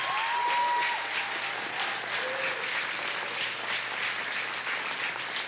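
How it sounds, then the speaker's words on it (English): Audience applause at a high school band spring concert, honoring the band directors: steady, dense clapping from a large crowd, sustained and fairly even throughout with a faint tonal hum beneath. "So if we could just have another round of applause for our amazing band directors"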